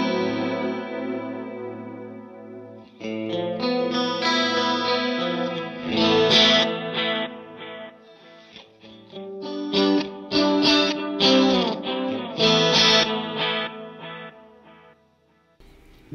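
Electric guitar played through an Axe FX processor with a light London Plate reverb, clean chorus-like chords and layered notes ringing out alone, swelling and fading in phrases with no talking.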